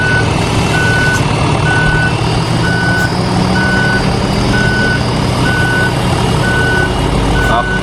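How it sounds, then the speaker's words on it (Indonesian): Reversing beeps of a bus in a video game: a steady series of short, evenly spaced electronic beeps, about two per second, over a constant low engine rumble. "BTW teman-teman mau dengar nggak suara mundurnya bus ini kayak gimana?"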